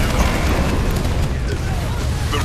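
A structure explodes in the real-time strategy game Halo Wars 2, giving a dense, continuous rumbling boom that stays loud across the whole stretch with no pause.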